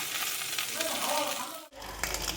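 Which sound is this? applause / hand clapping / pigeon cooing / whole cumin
whole cumin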